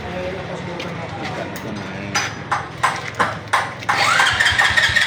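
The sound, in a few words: engine starting and idling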